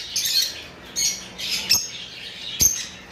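A green lovebird in full breeding condition gives several sharp, high squawks and chirps close by, in short bursts with small gaps between them and no talking.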